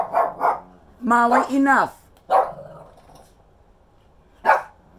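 Indoor Shih Tzu dogs let out several sharp barks in short bursts, close and loud, with a voice hushing them in between.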